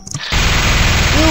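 A minigun in a zombie video game opens up after a brief blip, a dense, continuous roar of rapid fire that fills the rest of the moment.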